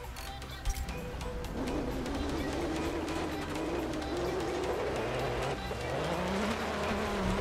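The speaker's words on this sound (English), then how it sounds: "engine sounds a bit loud" Race car engines roar in the Forza Motorsport 7 video game, a loud continuous snarl with rising and falling revs, tire noise and shifting pitch.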